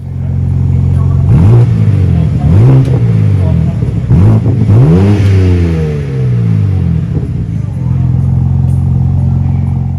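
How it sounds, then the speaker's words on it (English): A BMW M440i six-cylinder engine starts and revs, loud and close, with several sharp rising and falling revs over a steady deep idle. "I've got a clip of when one of the guys started it up earlier, and yeah, it really does sound very beefy for a little 6-cylinder engine."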